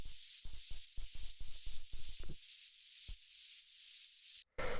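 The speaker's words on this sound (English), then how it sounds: "It's just this sort of atmosphere thing that I made." Synthesized atmosphere texture for a dark hypnotic techno track: a steady hissy, airy wash running throughout, with rhythmic low thumps pulsing underneath for the first half before it thins out, then a brief gap and a louder burst at the end.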